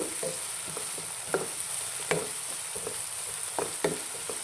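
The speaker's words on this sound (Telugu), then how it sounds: "కర్రీ కన్నా తొందరగా ఫ్రై అవుతుందండి ఎక్కువ టైం తీసుకోదు బాగా ఫ్రై అవనివ్వండి" Ivy gourd (dondakaya) and onions fry in a pan with a soft background sizzle, broken by several sharp scrapes and knocks of a spatula stirring against the metal.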